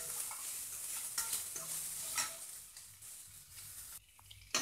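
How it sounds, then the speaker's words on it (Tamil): Onions sautéing in a pan for idli upma give a soft, continuous sizzle with occasional scraping stirs, quiet and close, with no talking. "வெங்காயம் வதங்கிருச்சு."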